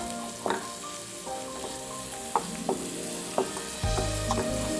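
Onions sizzle steadily in oil with salt for a cauliflower curry, a continuous close frying hiss broken by several sharp clinks and scrapes of a stirring utensil against the pan.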